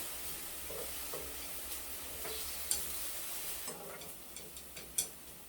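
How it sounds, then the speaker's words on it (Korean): Apple slices fry gently in a pan over low heat, a soft continuous sizzle with a few small clicks and ticks from stirring, close up with no talking. "이제 노릇노릇하게 사과가 맛있게 구워졌어요"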